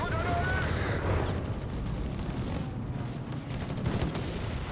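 Continuous gunfire and battle noise from an MG42 machine gun in the Company of Heroes 3 war game, a dense steady rattle with bursts and distant booms, forming a constant loud wash throughout.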